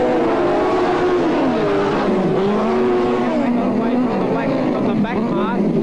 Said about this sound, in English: as they charge now into turns 3 and 4 for the sidecars